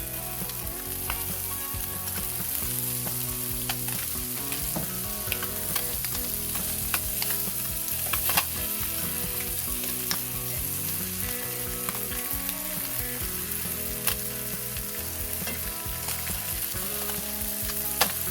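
Tilapia fillets pan frying in butter, a steady loud sizzle and crackle with constant spattering pops throughout, close and uninterrupted, with no talking.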